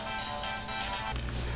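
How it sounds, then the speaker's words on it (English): A phone rings close by with a bright, steady warbling electronic tone that cuts off abruptly partway through. "Sorry, my phone is ringing."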